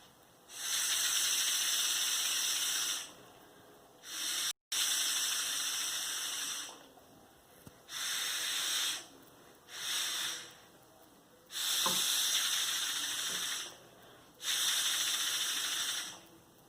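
Air blown through a spinner straw propeller makes a breathy whoosh in about six separate bursts of a few seconds each, close and fairly quiet, with short pauses between blows.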